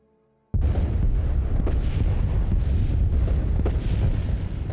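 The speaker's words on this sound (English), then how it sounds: "They're finally bombarding some of my worlds." Planets being bombarded in the space strategy game Master of Orion, a steady deep rumbling barrage of explosions that comes in abruptly after a brief quiet, loud and continuous with a few sharper blasts.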